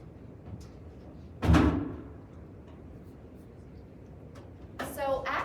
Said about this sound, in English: I'm just gonna shut this door.